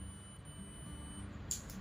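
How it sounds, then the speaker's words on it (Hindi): A digital multimeter in continuity mode sounds a steady, thin, high-pitched beep while its probes touch. The tone holds for over a second, then cuts off, leaving faint background hum and a small click. "ये जो दोनों को टच कराने पे जो बीप साउंड आ रहा है"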